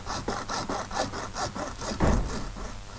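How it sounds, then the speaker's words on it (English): A hand saw cuts through a chunky piece of plastic with a steady back-and-forth rhythm of about eight rasping strokes, close and moderately loud, with a heavier stroke near the end. "This needs to be a nice, straight, flat cut. And it's quite a chunky bit of plastic that we're trying to get through."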